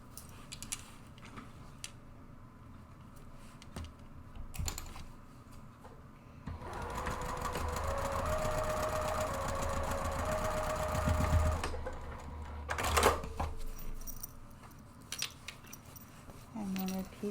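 A sewing machine stitches a purse organizer in a long, steady run of rapid mechanical whirring, starting and stopping, with softer handling clicks and rustles before and after, at moderate closeness.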